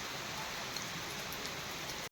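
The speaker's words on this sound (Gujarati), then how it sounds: "અત્યારે વરસાદ થોડોક વધી ગયો ને પાણી પણ વહેતા થવા માંડ્યા" Steady rain pouring down with water starting to run off, a dense continuous hiss of drops on surfaces, close and even, ending with a brief cut.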